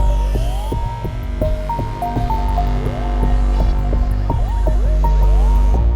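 Drip-like electronic tones from a track, with short pitched plinks and sliding blips falling in an irregular pattern over a steady low throbbing hum, continuous and fairly loud.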